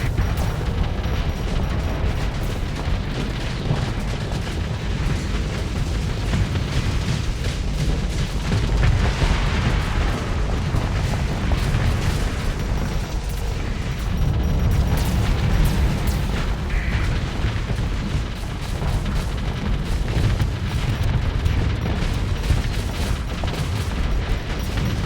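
Continuous dense rumble of booming explosions and weapon fire from a space battle in the game Starsector, with torpedoes detonating among the chaos, loud and sustained throughout with no clear pauses.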